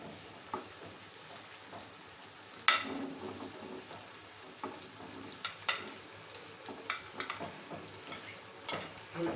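Macaroni being stirred into cooked chicken and vegetables in a pan for a creamy, spicy sauce, with a gentle sizzle under irregular scraping and clinking stirs, close and moderately loud, no talk.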